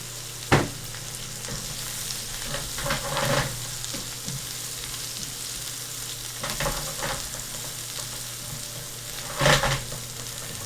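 Mushrooms sizzle and fry steadily in a hot pan while shrimp scampi is being prepared, with a constant hiss and several louder crackling bursts and stirring scrapes; no talking.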